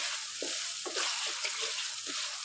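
Tomatoes and meat frying in a karahi, a steady close hiss and sizzle with soft stirring scrapes throughout.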